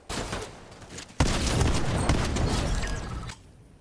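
Rapid gunfire during a Fortnite Zero Build solo match: a few sharp shots, then a sustained loud volley of cracks and booms that cuts off abruptly near the end.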